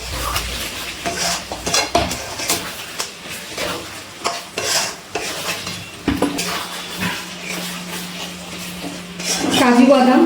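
Chicken darbari curry being stirred and mixed in a pot over a low gas flame, with a spoon scraping and clinking against the metal in irregular strokes over a soft sizzle, close and moderately loud.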